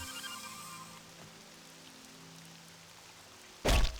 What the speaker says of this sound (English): Cool sound effects on the water though,